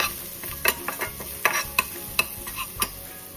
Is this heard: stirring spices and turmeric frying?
yes